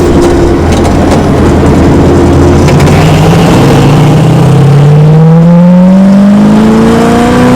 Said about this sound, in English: Car sounds awesome. No drone whatsoever.